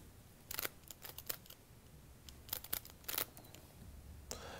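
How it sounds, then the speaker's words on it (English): A Rubik's Cube is turned in a false shuffle, giving quick plastic clicks and clacks in short uneven bursts. The turning sounds close and fairly quiet, with no talking. "So this is what the false shuffle looks like."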